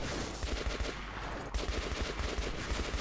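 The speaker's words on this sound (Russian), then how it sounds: "Бесконечный магазин, то есть можно стрелять сколько угодно." Rapid bursts of automatic gunfire from an infinite-magazine gun in Metro 2033 Redux rattle continuously, dense and sharp, with a brief lull midway before firing resumes.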